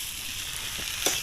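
Potatoes fry in a pan with a steady, close, even sizzle, and one brief scrape or clatter sounds near the end.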